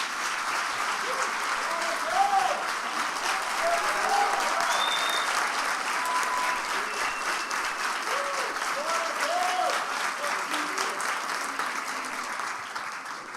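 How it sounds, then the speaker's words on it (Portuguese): A church congregation applauds steadily for several seconds during a worship service, a dense wash of clapping with faint voices calling out underneath. "Vamos aplaudir Jesus."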